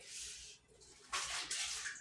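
Ginger root tea pours in a steady, soft splashing stream that briefly dips and then surges louder in two pulses, heard close and alone.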